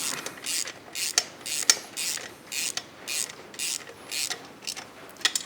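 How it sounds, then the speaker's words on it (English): A ratchet turns a 16mm socket to tighten a nut during removal of a stock header and catalytic converter on a 2024 Triumph motorcycle, giving quiet repeated clicking strokes in an even rhythm, close up. "Hold it with our 17mm wrench, 16mm socket. Tighten it up."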